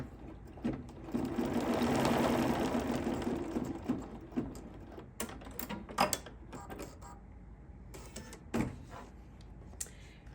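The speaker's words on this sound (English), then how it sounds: "Now this is just going to stitch a little bit." An embroidery machine stitching a hot pad runs with a soft, fast mechanical whir and rattle, ramping up then settling into irregular clicks and taps, close and fairly quiet.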